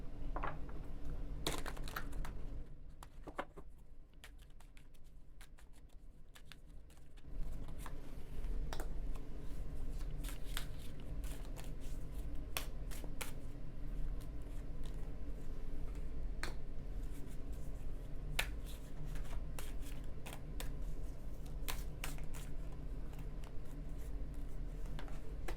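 Tarot cards shuffled and drawn by hand in a quiet room, giving a long run of soft riffling, snapping and tapping clicks that continue steadily and close up throughout.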